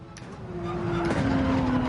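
A race car engine in the Gran Turismo video game climbs back onto the throttle, a steady tonal whine rising and holding at moderate level, with faint tire noise beneath.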